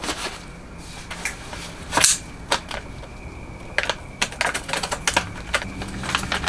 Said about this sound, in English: I'm going to cut open my rebuild kit here.